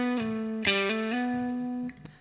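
An electric guitar through a spring reverb, panned toward the right, plays a few sustained, ringing notes with a slight distorted edge, each held for a beat before changing pitch, close and clear with no voices.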